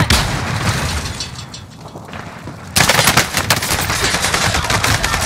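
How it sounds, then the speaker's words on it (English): Gunfire and blasts from an enemy in the video game Call of Duty: Modern Warfare, a dense, steady crackle of shots with a heavy burst that grows louder midway and keeps rattling close by. "Enemy is firing at me."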